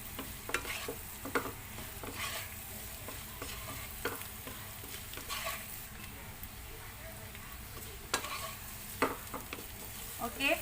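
Potatoes pan frying in butter give a faint, steady sizzle, with repeated soft scrapes and taps of a utensil against the pan over about ten seconds.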